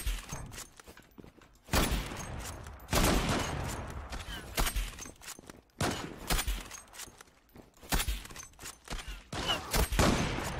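Gunfire in the online shooter Zula comes in repeated bursts and single shots, close and loud with uneven spacing, between quieter stretches of game noise and footsteps.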